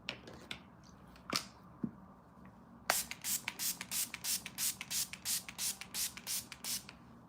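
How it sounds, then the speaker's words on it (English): A face setting spray is pumped in a quick run of about fourteen short, close hissing bursts at a steady rhythm, after a few faint handling taps during a makeup session. "so now I'm gonna spray my face"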